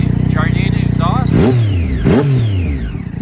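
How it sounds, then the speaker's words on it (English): A 2010 Triumph Daytona 675 sport bike fitted with a Jardine exhaust, loud and close, idling with a rough pulse, then revved sharply twice, each blip rising and falling away. "Bike sounds beautiful, looks beautiful, just serviced it."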